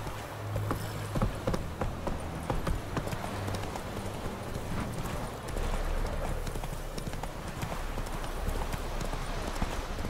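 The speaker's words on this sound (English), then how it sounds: "Not so fast, Roach" Rapid clip-clop of a horse galloping in The Witcher video game, with steady fast hoofbeats close by over a dense background of game ambience.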